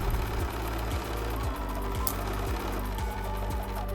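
A sewing machine stitches fabric seams one after another during chain piecing, with a steady, close mechanical whir and a regular knocking pulse about twice per second.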